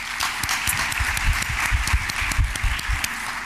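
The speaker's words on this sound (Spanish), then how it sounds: "Un fuerte aplauso para él." An audience applauds a speaker at the Inspira Montevideo 2013 innovation talks, with steady, dense clapping that fills the hall for a few seconds, close and continuous, without speech.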